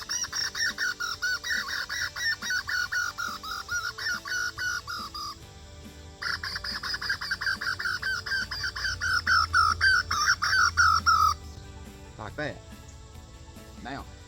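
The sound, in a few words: woodpecker distress call imitated by tongue flutter on a game call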